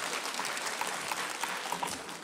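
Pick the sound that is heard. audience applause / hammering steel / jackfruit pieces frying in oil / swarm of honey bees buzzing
audience applause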